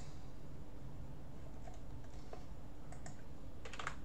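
Quiet, scattered keystrokes on a computer keyboard, a few soft clicks and short bursts of typing over a low steady background hum, with no one speaking.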